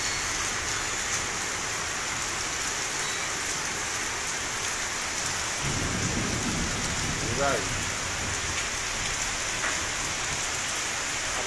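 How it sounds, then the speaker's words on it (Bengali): Heavy rain hisses steadily throughout, with a faint voice briefly audible in the middle. "বৃষ্টি আর রয়েছে, কিন্তু শিলা নেই।"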